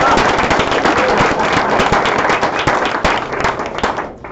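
An audience at a community practitioners' research event claps, loud, dense applause with sharp individual hand claps, steady throughout and tapering slightly at the very end.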